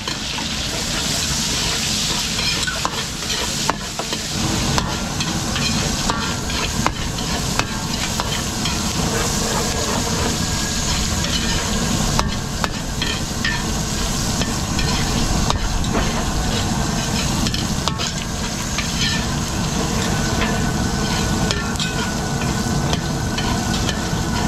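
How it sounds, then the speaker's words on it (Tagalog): Garlic and onion sauté in a catering-sized pan with a loud, continuous sizzle, broken by repeated scraping and clacking of stirring. "gigisa lang natin ng gisang-gisa yung bawang sibuyas"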